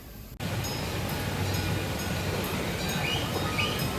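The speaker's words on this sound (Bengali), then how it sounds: "চিড়িয়াখানার ভিতরে ওরা এরকম এই ছোট্ট খেলনার একটা ট্রেন দৌড়ায়" A small toy train rumbles steadily close by at Cincinnati Zoo after a brief quiet start, a continuous mechanical hum with faint chirps in the background.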